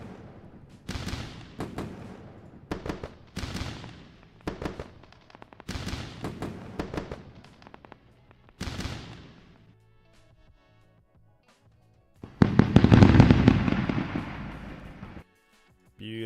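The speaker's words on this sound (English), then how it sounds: "Let's go with the fireworks." Fireworks sound effect played over a live day-trading stream: a rapid string of sharp crackling bursts and booms in several clusters, a quiet gap, then one big loud burst near the end.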